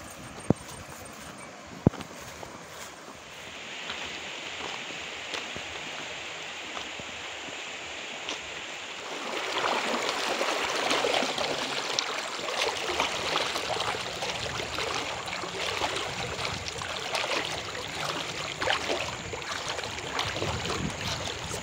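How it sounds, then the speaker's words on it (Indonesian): A river flows below a footpath through plantation land, a soft steady rush that swells louder about halfway through and keeps going with no one speaking. "Di bawah ini ada sungai, guys."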